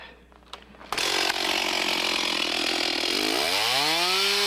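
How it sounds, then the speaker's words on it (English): A chainsaw starts with a sharp burst and runs loud and close while cutting logs at a log building school, then the engine pitch sweeps up in a rising whine as it revs near the end. "Chainsaw."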